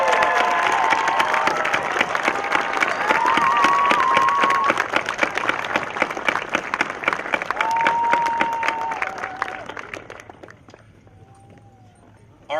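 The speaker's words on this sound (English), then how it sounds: "let's do a standing ovation for our platform guests" Graduation crowd at a high school ceremony giving a standing ovation, dense sustained applause with some cheers and whoops, loud at first and then tapering off into quiet near the end.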